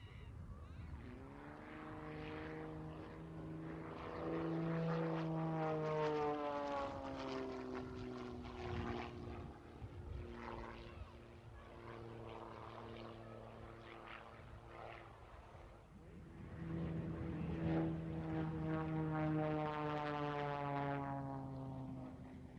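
A Proteus Extra 300 aerobatic aircraft at an air display drones overhead, its propeller engine note swelling, sliding in pitch and fading as it passes and returns; distant and faint.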